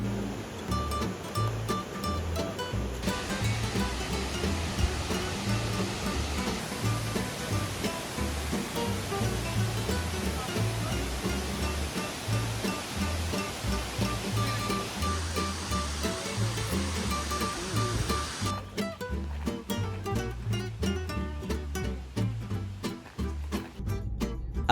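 Steady, loud rushing roar of a waterfall on Réunion island, continuous and close, with only slight shifts in texture throughout.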